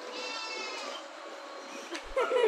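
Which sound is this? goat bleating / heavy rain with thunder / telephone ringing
goat bleating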